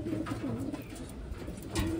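Pigeons coo softly and repeatedly at close range, low throaty calls over a faint background hum.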